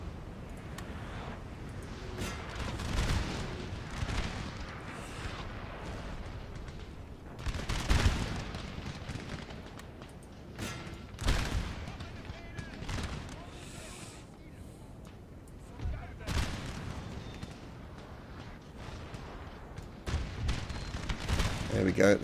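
A Napoleon: Total War battle rumbles with cannon booms and crackling musket volleys. Heavy bursts break out every few seconds over a continuous din of distant gunfire.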